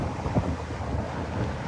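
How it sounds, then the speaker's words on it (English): Steady wind buffeting a microphone outdoors in Kenosha, Wisconsin, a continuous low rumble with gusty swells and no voices. "It's still windy, but it's not cold anymore."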